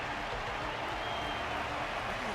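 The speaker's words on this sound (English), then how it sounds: "Their constant applause is a salute to this resilient Belabogian fighter." Steady audience applause from a crowd watching a fighting match in the Honkai: Star Rail video game, a dense continuous wash of clapping filling the whole moment at moderate level.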